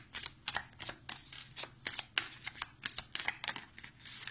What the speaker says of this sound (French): On va prendre 3 cartes